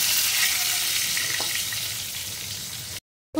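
Hog plums with a dried red chili and five-spice seeds frying in hot oil, a close, even sizzling hiss with faint stirring ticks, cut off abruptly by a moment of silence.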